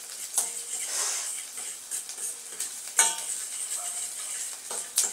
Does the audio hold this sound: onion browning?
yes